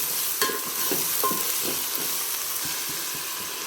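Something fries in oil in a pan while a spoon stirs it, a continuous close sizzle broken by several distinct scraping strokes.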